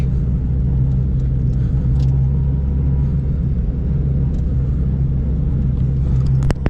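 A rebuilt Honda D16Z6 engine runs steadily up close with a loud, continuous low rumble and a faint steady hum, with no talk over it.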